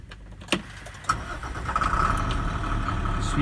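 A 2014 International DuraStar 4300 box truck engine cranks with a couple of sharp clicks, then catches and settles into a rising, steady diesel idle heard from close by.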